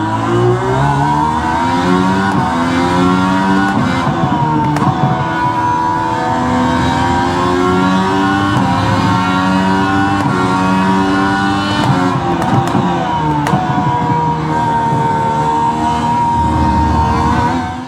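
A high-pitched IndyCar engine in a racing video game screams loud and continuous, rising and dropping in pitch as it revs up, shifts gears and accelerates through corners.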